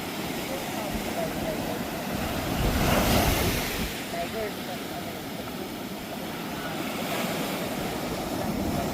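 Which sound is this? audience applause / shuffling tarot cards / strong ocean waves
strong ocean waves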